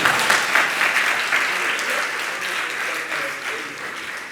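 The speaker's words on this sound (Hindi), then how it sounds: "लोगों को तालियां बजानी थी" An audience at a religious discourse breaks into sustained clapping, a broad, even wash of many hands that holds steady and tapers slightly near the end.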